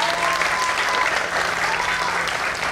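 An audience claps steadily and densely throughout, a continuous loud wash of applause with no break.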